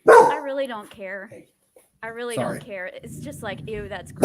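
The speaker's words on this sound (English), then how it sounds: "I'm sorry about my dog." A dog barks and yips indoors in short bursts, mixed in with a person talking nearby, the barks loud and close at the start and again partway through.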